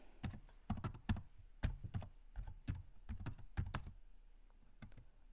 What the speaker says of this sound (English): you can just type your word here